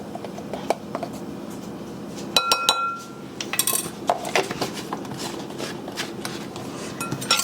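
A utensil clinks and scrapes against a bowl while flour, salt and pumpkin pie spice are briefly stirred together for maple pecan pumpkin bread, with irregular close taps and a few sharper knocks.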